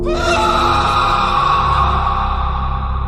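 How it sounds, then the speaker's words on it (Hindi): A loud, sustained scream used as a horror-story sound effect, a single harsh wailing cry with strong harmonics held steadily for about three seconds, alone with no talk. "तभी वहां अचानक किसी के चिल्लाने की आवाज आई।"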